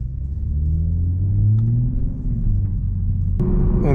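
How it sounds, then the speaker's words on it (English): A 2022 Toyota Supra GR pulls hard under acceleration, a deep, loud engine drone and rumble rising in pitch from inside the cabin, with a sharp shift near the end and no speech. "Let's go do some pulls."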